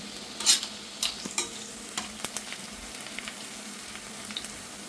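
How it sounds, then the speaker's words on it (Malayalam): Garlic frying in oil for lime pickle hisses in a soft, steady sizzle, broken by a series of sharp scraping stirs of a spoon against the pan. "ഈ വെളുത്തുള്ളി മാക്സിമം മുരിയെ വറുത്തെടുക്കണം"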